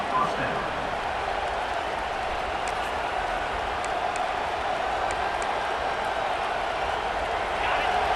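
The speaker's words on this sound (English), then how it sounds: "this crowd getting behind its defense" A stadium crowd in the EA Sports College Football 26 video game keeps up a sustained roar behind the home defense as play sits first down in the red zone, steady and fairly loud.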